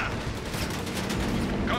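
Dense, continuous battlefield gunfire from Company of Heroes 3, a loud wall of overlapping shots and rumbling explosions with no gaps, with faint game voices mixed underneath.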